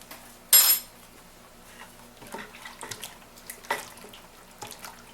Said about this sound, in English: and I'm going to stir it up.